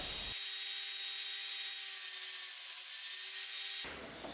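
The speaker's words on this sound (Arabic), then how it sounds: "نبدأ نقطع حرف العوارض على الزاوية المناسبة" A power saw cuts across wooden rails at an angle for a dining buffet cabinet, one steady loud whining cut lasting several seconds before it ends abruptly.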